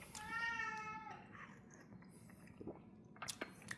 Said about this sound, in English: Excuse the cat meowing.